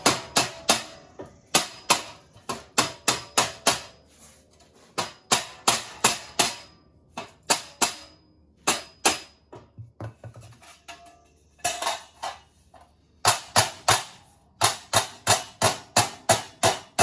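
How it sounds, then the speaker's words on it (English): Repeated sharp dead blow hammer blows on metal structural work in quick rhythmic bursts, loud and close, with brief pauses between sets of strikes. "Going to use a dead blow hammer and just hit it"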